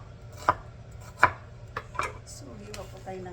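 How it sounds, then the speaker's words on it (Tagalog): Onion being chopped with a knife on a board: four separate sharp knocks spaced a little under a second apart, close and fairly quiet, followed by a faint scrape or clatter, with no talking. "So, hiwa po tayo ng sibuyas."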